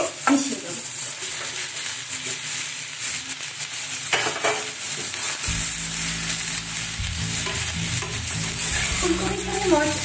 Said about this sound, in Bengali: এবারে আমি হালকা করে ভেজে থাকা ফুলকপি গুলো এর সঙ্গে মিশিয়ে দেব।